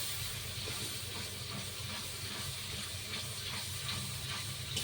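Water poured into fried spice paste for Bengali aloo dum, giving a steady, dense sizzling hiss that holds evenly throughout, close and loud, with no talk.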